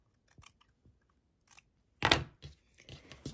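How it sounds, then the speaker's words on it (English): Sharp snips of scissors trimming quilt binding fabric to a quarter inch, a few faint cuts followed by a louder burst of close cutting and crunching, no talk. "All I'm going to do is take a pair of scissors and trim to a quarter inch."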